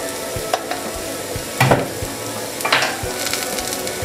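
Spices, including pepper, chili powder and turmeric, sauté in a pan for egg tapioca; a steady close sizzle runs under occasional spatula scrapes and stirring knocks.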